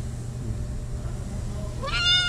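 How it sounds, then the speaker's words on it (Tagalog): A cat meows once, a short clear cry near the end, heard over a steady low rumble of background noise with no talking. "So may isang alaga din ako ditong pusa din"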